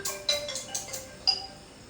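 A phone rings with a repeated electronic ringtone of short tonal beeps in a quick pulsing pattern, fairly clear and close, with no talk over it.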